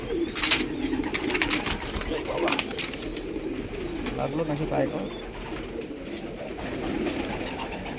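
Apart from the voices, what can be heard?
pigeons cooing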